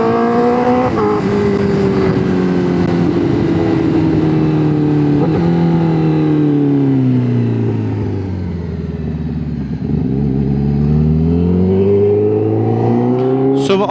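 Honda CBR 1000 RR-R SP superbike screaming through a dyno pull, engine note loud and continuous, climbing in pitch, easing briefly near the end, then rising again.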